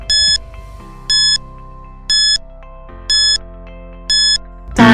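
Quiz countdown timer beeping five times in evenly spaced, loud electronic bursts with clean tones, followed by a sudden louder sound at the end.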